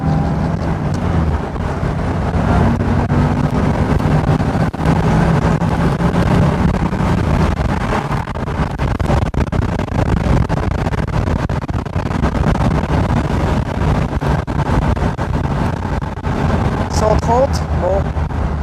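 A car accelerates along a wide city boulevard, its engine and road noise filling a constant loud rush with heavy wind buffeting, and people talk throughout.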